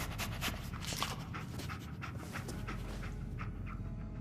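Dogmeat, the dog in the video game Fallout 4, pants heavily and rhythmically close up, steady throughout over a low background rumble.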